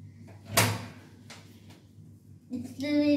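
A hotel apartment door at the ITC Grand Chola opens with one sharp clunk of the latch, followed by softer handling knocks, while a person talks nearby.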